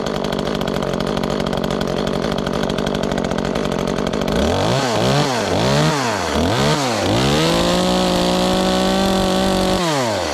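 An Echo CS-355T chainsaw engine runs loud and close, revving up and down in several quick swells before settling into a steady, buzzing idle.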